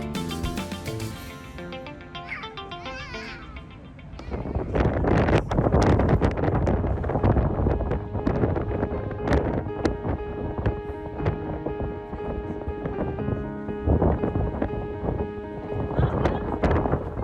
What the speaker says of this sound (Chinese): 风很大，稳定器都被吹歪了，画面摇摇晃晃的